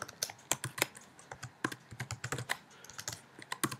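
Rapid, uneven keystrokes on a computer keyboard, close and crisp, with a steady patter of taps and no voices.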